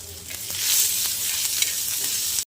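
Chopped ginger and garlic hit hot oil in a pan, setting off a loud, steady sizzle and frying hiss with light stirring, running unbroken before cutting off abruptly.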